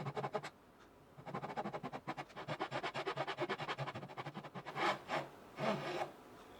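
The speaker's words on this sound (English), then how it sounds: "So I started with the same saw that I use for cutting fret slots" A hand saw, the same fine-toothed kind used for fret slots, cuts a nut slot into a wooden guitar neck with rapid, even back-and-forth rasping strokes. A few slower, heavier strokes follow near the end, close and clear.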